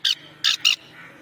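A boy imitates a parrot with his voice: three harsh, shrill squawks, two quick ones after a pause, loud and close with nothing else behind them.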